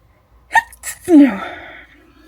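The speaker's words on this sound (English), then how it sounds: "I think I'm going to sneeze." A sharp inhaling build-up, then one loud explosive sneeze close by, trailing off into a brief vocal tail.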